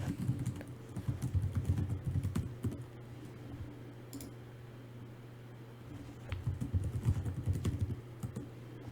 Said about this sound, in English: type in your username and password